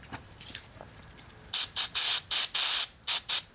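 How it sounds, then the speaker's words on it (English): Trigger-bottle cleaner spraying onto a generator during an oil change, six quick loud hissing bursts in an uneven rhythm, close by, following a quieter stretch of faint handling noises. "And I'm just like wiping and spraying and wiping and spraying."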